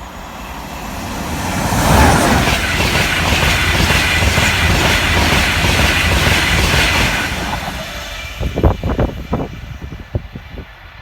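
A British Rail Class 91 electric train passes close by on the line, a loud rushing roar building and holding for several seconds before fading into rhythmic clacks of wheels over rail joints.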